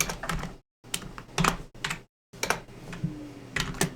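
Rapid typing on a computer keyboard, close and clear, in quick bursts of keystrokes separated by brief silent pauses, with no voices.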